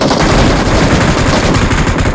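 Loud, dense automatic gunfire from PUBG Mobile (BGMI) gameplay, a rapid, continuous burst of shots filling the whole stretch with no voices.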